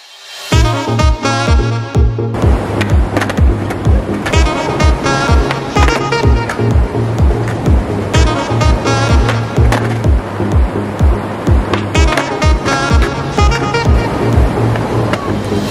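A skateboard rolls continuously over a street, its wheels rumbling loud and close with a steady rapid clack as they cross pavement seams, like a skater warming up before street gaps.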